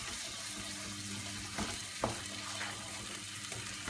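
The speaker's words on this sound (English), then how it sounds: "Now the egg has to go in, and you have to keep stirring it until the egg dries out." Egg for pad thai fries in a pan while a fish slice stirs it, producing a soft, steady sizzle and a few scraping taps of the utensil against the pan.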